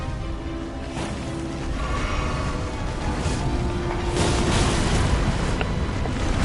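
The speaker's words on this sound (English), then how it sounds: "Hitting me with the fire tail combo is crazy." Dragon's fire tail combo attack in a video game, a roaring whoosh of fiery blasts and impacts with sharp bursts at intervals, building louder over a continuous rumbling bed.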